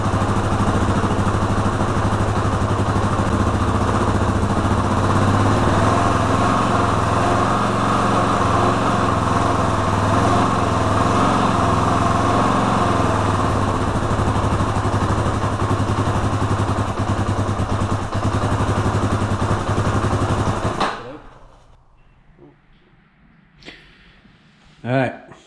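Yamaha Raptor 350 ATV engine running with its airbox removed, a loud, steady buzzing idle close by that holds for about twenty seconds before cutting off, leaving quiet handling noises and a brief thump.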